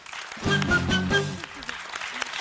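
Audience applause for the musicians in a studio TV show, a short burst of clapping rising mid-clip and fading, mixed with a presenter's voice and background music.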